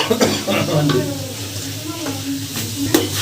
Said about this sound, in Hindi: हाँ जी, अब डालेंगे टमाटर का पेस्ट।